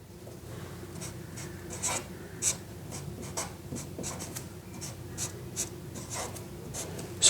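Pen scratching on paper while a chemical structure is drawn by hand, a run of quiet, close strokes and taps over faint room hiss with no speech.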